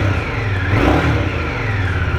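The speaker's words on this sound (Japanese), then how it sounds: "このインディアンの水冷エンジン独特のというか、 このエンジンからのメカノイズ" An Indian Scout water-cooled motorcycle engine hums steadily nearby, rising briefly in a short rev before settling back to a smooth mechanical drone.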